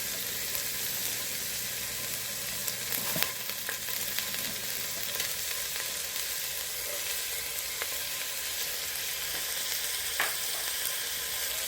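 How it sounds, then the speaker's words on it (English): Onions and garlic sizzle steadily in hot oil in a pan, a continuous close frying hiss with occasional soft stirring clicks throughout. "Time for me to heat up my pan, put some oil, and then put the onions first. I'll put the onions and garlic."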